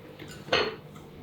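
A single brief clatter of pots, pans or utensils rings out close by in a kitchen during stir-fry cooking, with quiet background around it.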